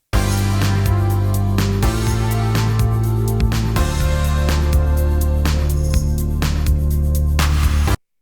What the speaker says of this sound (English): I've got here a drums, bass and synth loop, which is a continuation of the little jam I was working on with the 80s drums